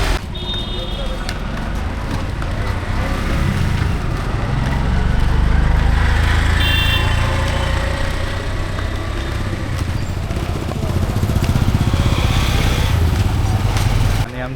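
An auto rickshaw engine runs steadily close by through the whole stretch, a dense low rumble with passing traffic noise and a voice talking over it at times.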